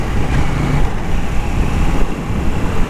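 A KTM Duke 790 motorcycle engine runs steadily while riding through Bangalore at night, a continuous close, loud rumble with wind noise and no clear gear changes.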